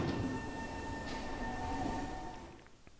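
A train in the video game Splatoon 2 Octo Expansion rumbles steadily with a faint high squeal running through it, then fades toward the end.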